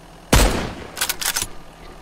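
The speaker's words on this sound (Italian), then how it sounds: "Se scendo e ti sparo magari un colpo di precisione." A single loud, close gunshot from the survival video game Mist Survival cracks sharply and its echo decays, followed by a quick burst of fainter rattling shots.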